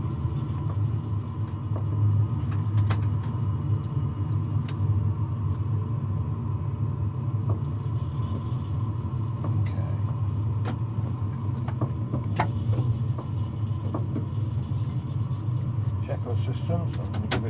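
De Havilland Comet jet airliner taxiing with its engines running, heard as a steady low rumble and drone inside the cockpit, continuous and fairly loud, with someone talking over it.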